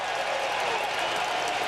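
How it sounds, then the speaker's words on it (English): Baseball stadium crowd during a Braves home game, cheering and applauding for Randy Johnson as he works on a perfect game, a steady broad roar of applause at moderate distance with no break. "the crowd is into this thing now, rooting for Randy Johnson"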